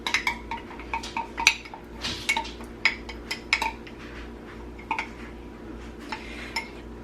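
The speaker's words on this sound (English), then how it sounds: "Now I am going to use my metal spoon to get that out." A metal spoon clinks and scrapes against a container while digging out honey for sourdough bread, a string of sharp close taps and scrapes in an irregular rhythm over a quiet room hum.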